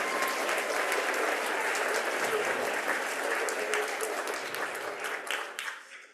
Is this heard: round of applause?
yes